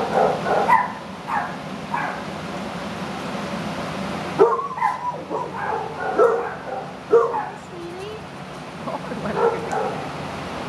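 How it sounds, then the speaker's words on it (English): Dogs in a kennel bark, yip and whimper in short, irregular bursts at close to moderate distance, with brief pauses between outbursts. "Somebody barking over there."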